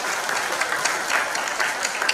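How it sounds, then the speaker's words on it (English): Audience applause at the FICCI Frames 2024 industry event, a dense steady wash of many hands clapping at moderate volume throughout with no voices. "huge round of applause to all these films"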